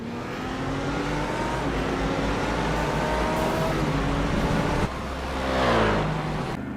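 A race car breaks away from the field as the pace car peels off during a six-hour endurance race at Road America, its engine note climbing through gears with a brief drop and another loud surge.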